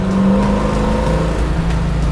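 A 1969 Chevy Camaro Z28 with a 454 LS7 crate engine pulls away under throttle, a loud, steady, close V8 roar with a slight rise in pitch throughout.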